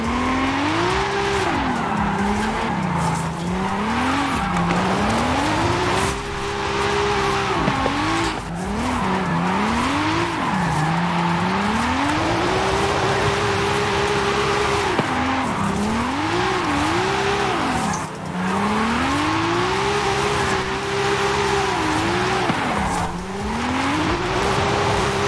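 A Toyota Supra wide-body drifts in Forza Horizon 5, its engine droning and rising and falling in long sweeps as the tires squeal through repeated slides, loud and continuous for the whole stretch.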